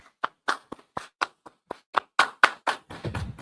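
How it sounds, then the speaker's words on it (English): A small group clapping hands in a brotherhood class, scattered uneven claps close by and fairly quiet, loosely timed rather than in unison, building to a quick flurry at the end. "Clap it up."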